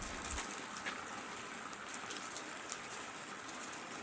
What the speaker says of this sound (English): that's a lot of water coming down on the roof